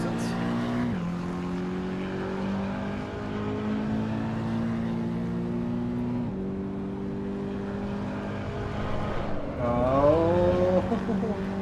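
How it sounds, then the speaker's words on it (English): Car engine in the racing video game Assetto Corsa Evo, heard from an outside perspective: a steady droning tone with shifting pitch and a rising rev near the end, with speech over it. "it sounds like my audio is more outside of the car and not inside the car"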